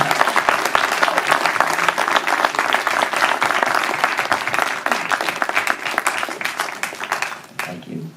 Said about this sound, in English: One more round of applause for Jeanne and Lita.